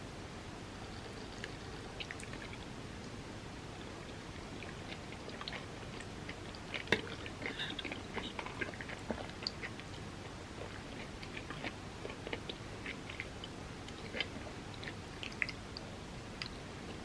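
Soft, close chewing of vegan lasagna with sauce, with faint wet squishes and small bite clicks scattered over a quiet hiss.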